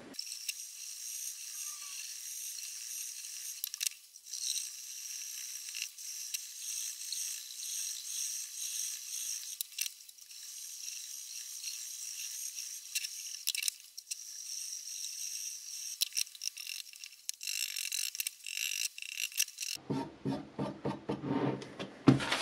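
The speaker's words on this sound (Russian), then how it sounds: "это у нас уже полировка, то есть у нас нож и так острый, поэтому здесь уже надо еще меньше усилия прикладывать к бруску" A XINZUO knife blade is polished on a Syto sharpener stone, with close, continuous rhythmic scraping strokes across the stone that grow busier and louder toward the end.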